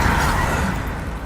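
Confringo blasting spell cast in the Hogwarts Legacy video game, a loud, dense burst of crackling fiery blast noise that starts at full strength and fades gradually over about a second.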